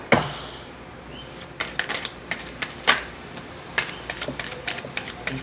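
Tarot cards are shuffled by hand up close in a quiet room, giving soft, irregular clicks and papery flicks in scattered bursts, with no talking.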